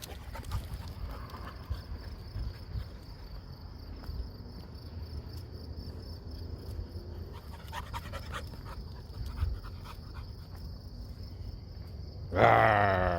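A loose, excited dog panting steadily at close range over constant outdoor insect and cricket chirring, with a louder burst of noise near the end.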